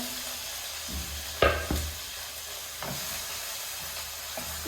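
Chopped ingredients sizzle steadily in a hot pan with a constant frying hiss, broken by a few sharp clatters as they are tipped in and stirred; no voices.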